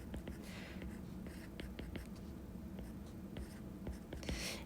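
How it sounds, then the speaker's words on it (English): Pen scratching out a hexagon on paper, with short close strokes and small pauses between lines. The strokes are soft and steady and no one speaks over them. "I'm just going to try to draw a hexagon"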